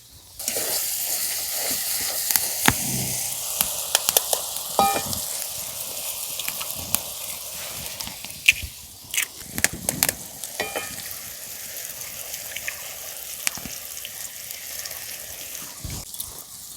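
Eggs cracked into spicy masala fry in a pan for a dhaba-style egg tadka, a steady close sizzle with scattered crackles and pops and occasional stirring taps, no one speaking.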